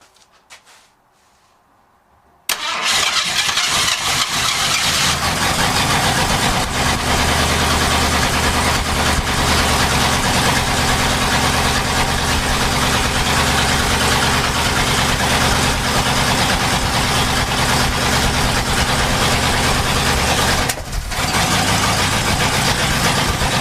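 An old car engine idles on its carburetor for the first time in 35 years, fed fuel straight into the carb. It bursts into a loud, steady, rough idle after a quiet start, with one brief dip near the end.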